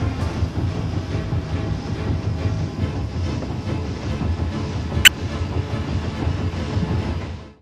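A train runs along the rails in a steady, rumbling roll with faint rhythmic clatter, heard from nearby. A single sharp metallic click stands out briefly near the end before the sound fades out.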